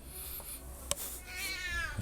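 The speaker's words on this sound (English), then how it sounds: "It's even more difficult if you've got a cat that yells at you." A cat meows loudly during a Slay the Spire gaming session, a single drawn-out rising call standing out over faint background noise, with no talking.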